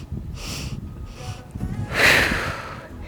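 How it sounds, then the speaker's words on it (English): Quick breaths from a yoga and Pilates breathing exercise: two short sharp sniffs through the nose, then a longer, louder breath, close and clear with no talking. "this time is 3 inhales, 1 exhale"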